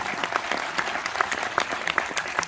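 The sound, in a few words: audience applause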